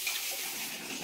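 Pigeon pea lentils are rinsed in water for a cooking session, with a continuous soft splashing and trickling wash of water and no voices.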